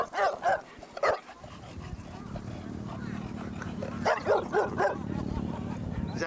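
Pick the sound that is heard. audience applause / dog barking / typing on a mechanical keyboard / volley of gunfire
dog barking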